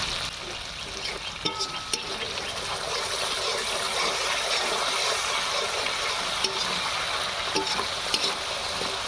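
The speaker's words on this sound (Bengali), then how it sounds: "সর্ষে দিয়ে তেল ছেড়ে দিয়েছে, এবারে কয়েকটা কাঁচা লঙ্কা দিয়ে দেবো" Green chillies sizzle in hot mustard oil as fish curry cooks, a steady, bright crackling hiss that runs throughout, with small pops and spits and no talk.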